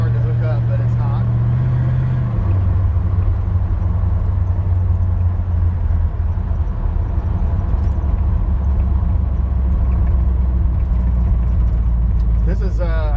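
A 1936 Chevrolet 5-Window Coupe driving down the road, its engine humming loud and steady from inside the cabin, with the pitch dropping as it shifts early on.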